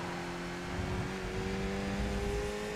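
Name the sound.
Mazda MX5 engine downshifting in iRacing video game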